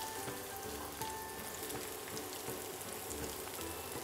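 Carrots and other vegetables frying in a frying pan, a steady, dense sizzle that carries on unbroken throughout, with no one talking over it.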